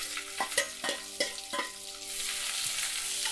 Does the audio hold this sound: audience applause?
no